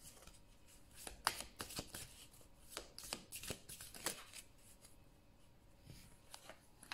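Tarot cards are shuffled, handled and laid out on a surface. Soft, close papery flicks and slaps come in irregular bursts, quiet overall, with brief pauses between groups.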